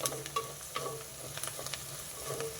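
Onions frying in a pan for a cauliflower and green peas masala curry, a soft steady sizzle with occasional scraping stirs and clicks of a spatula, fairly quiet and close with no talking.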